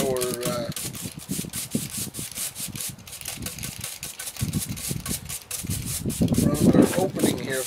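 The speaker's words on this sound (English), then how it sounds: "The whisk broom actually making some nice lines there, and it's tough enough it can take some high spots off as well." A stiff whisk broom brushes over a repaired concrete bench corner, laying repeated scratchy rubbing strokes close by, with a voice talking over much of the work.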